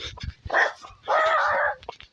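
Dog barks and yips heard during a French running race recap, a few short bursts and one longer sustained outburst, fairly close and loud, with no talking.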